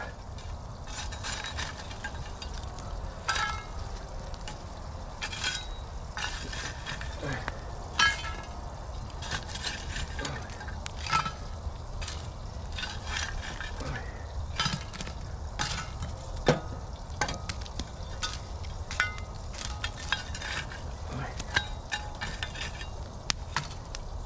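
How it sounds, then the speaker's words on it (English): Scattered metallic clanks and taps as the lid of a cast iron Dutch oven is handled and campfire coals are placed on top, irregular knocks over a low outdoor rumble, moderately quiet. "Now it's time for the lid. And we're gonna put coals on top."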